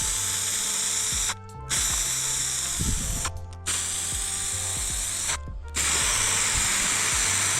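Bursts of aerosol spray paint lay primer on the hood of a Fiat Panda, three long, loud hissing passes with brief pauses and faint clicks between.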